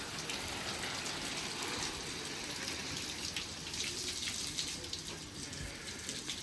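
Steady splashing water pours continuously, a close, even hiss like a hose or can watering plants, with no voices.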